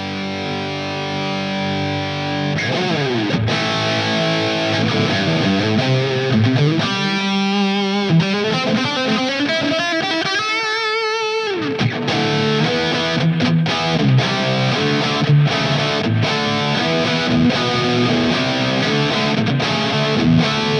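Overdriven electric guitar played through the British Jubilee Rhythm amp model on a Fender ToneMaster Pro, gritty chords and a rising single-note run with continuous crunchy distortion throughout.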